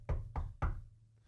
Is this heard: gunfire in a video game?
no